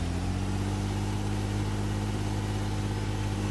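Steady tractor engine from Farming Simulator 2013, a continuous low idling drone with strong harmonic hum holding an even, unchanging level throughout, no speech over it.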